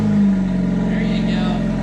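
A Honda Civic engine running with no exhaust fitted, a loud, raw, buzzing drone held steady up close, with voices talking over it.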